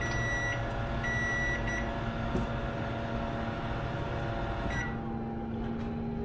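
A steady microwave oven hum fills the room while cooking rice, with a few faint electronic beeps near the start before the humming stops near the end.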